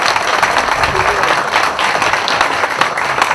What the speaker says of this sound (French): Est-ce qu'on peut applaudir pour le président Teddy Omanza?